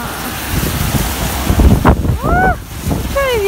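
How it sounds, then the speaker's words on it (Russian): Strong, gusty wind buffets the microphone on a rainy street in Bilbao, a steady roar with heavier surges, while people talk briefly over it. "Какой ветер, прекрасно."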